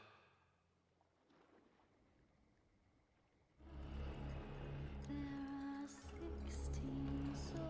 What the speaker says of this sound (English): steam rose above the trees. and a boat's ghostly engine struggled.